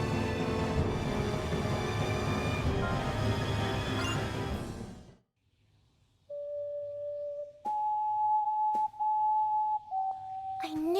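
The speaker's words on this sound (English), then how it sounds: "It's the sound of my ocarina." Ocarina from the video game Star Ocean The Last Hope plays a short melody of sustained, pure tones after a loud passage of dense game music cuts out, the notes clear and alone over a faint low hum.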